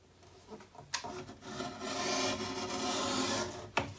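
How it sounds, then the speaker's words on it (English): A blade or trimming tool shaving a thin piece off a paper part of a Graphic 45 Magic of Oz mini album: a close, sustained rasping scrape lasting a couple of seconds, preceded and followed by sharp clicks and handling taps. "I think I'll shave a piece off."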